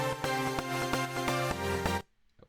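A bright, buzzy supersaw synth plays rhythmic chords in short pulses for about two seconds, then cuts off into near silence.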